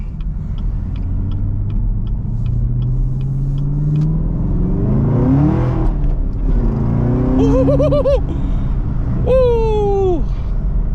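A Chevrolet Camaro ZL1 with a six-speed manual accelerates hard, heard from inside the cabin. Its loud engine rumble climbs steadily in pitch through the gears, with sharp rising revs near the end, and a voice speaks over it.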